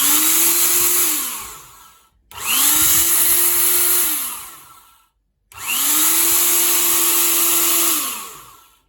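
A 1000W electric power grinder with its lid closed runs in three separate bursts, each a loud steady motor whine that winds down between runs, with short silences in between.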